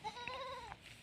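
Goats on a farm give a single short, close bleat with a wavering, nasal pitch against quiet surroundings.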